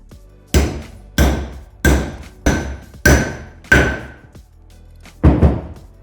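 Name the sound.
tool seating bearing races into brake hub and disc assembly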